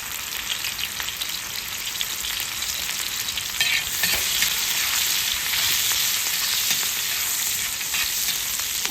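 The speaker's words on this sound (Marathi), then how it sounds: "तेल गरम झाले, आपण मिरची टाकूया आणि मिरची बरोबर थोडंसं मीठ टाकूया." Green chilies and salt sizzle in hot oil on a pan, a loud, continuous crackling hiss close by, intensifying slightly midway with occasional stirring scrapes.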